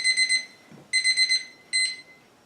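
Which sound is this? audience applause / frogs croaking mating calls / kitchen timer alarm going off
kitchen timer alarm going off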